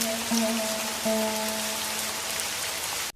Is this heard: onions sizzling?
no